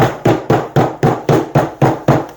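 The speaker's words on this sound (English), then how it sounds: "Tap in the last of your T-track." A rubber mallet taps metal T-track into place in a home workshop: eight evenly spaced, solid knocks, close and loud, each fading quickly before the next.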